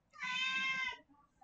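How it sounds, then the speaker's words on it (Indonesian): A single clear cat meow, close and moderately loud, lasting under a second, followed by quiet. "suara itu adalah suara kucing"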